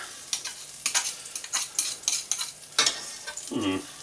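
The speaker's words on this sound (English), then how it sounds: "I'm bringing the pan up to the heat and then I'm going to add the butter" Butter melts in a hot pan for cullen skink, a Scottish smoked fish chowder. Soft sizzling sits under a string of quick spoon scrapes and light clinks against the pan, fairly quiet and close.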